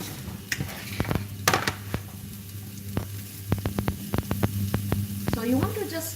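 Onion fries gently in a little cooking oil in a pan, a soft steady sizzle under a low hum, punctuated by sharp clicks, taps and utensil scrapes against cookware.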